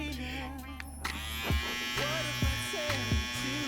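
A Supreme T-Fader Li cordless electric shaver buzzes steadily up close, its motor hum dipping briefly a few times as it runs.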